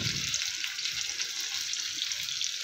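Chicken leg pieces fry on a hot tawa with a steady, close sizzle and crackle, a few faint low knocks underneath and no clear talking.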